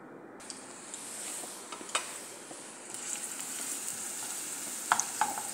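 Cloves sizzle in hot oil in a pan for chicken fried rice, a soft, steady frying hiss with small pops and crackles, close and fairly quiet, with no talking.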